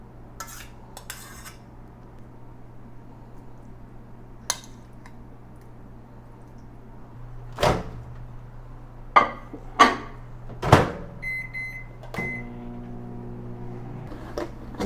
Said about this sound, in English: I'm just gonna heat them up quickly in the microwave